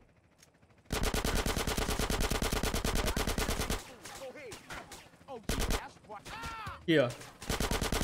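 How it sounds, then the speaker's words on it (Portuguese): Rapid bursts of automatic gunfire from a GTA San Andreas Remastered shootout crackle loud and dense, broken by short pauses, zips and game effects, with a brief spoken aside. "o negócio é atirar de longe"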